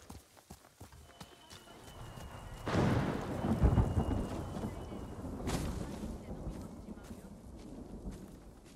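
Thunder rolls in the Ghost of Tsushima video game, a deep rumble swelling midway over steady rain and wind, with horse hooves clopping faintly in the foreground and someone speaking Japanese over it.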